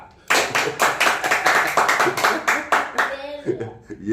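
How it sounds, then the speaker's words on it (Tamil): Hands clap in a quick, steady rhythm at a Tamil Christian preaching gathering in Bangalore. The clapping is close and loud, and voices speak over it. "கையை தட்டுறா"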